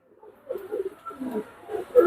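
Close, soft pigeon coos in a few low, rolling phrases, with a brief quiet gap between them.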